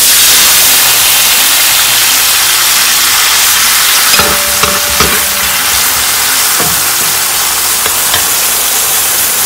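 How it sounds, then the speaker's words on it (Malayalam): Water is poured into a hot pan of pickle mixture with turmeric, made in large batches for a wedding feast, producing a loud, steady, close sizzle with faint stirring clinks throughout. "വെള്ളമൊഴിക്കുക."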